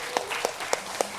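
A few separate hand claps at a church service, four evenly spaced, fairly soft claps over a quiet room.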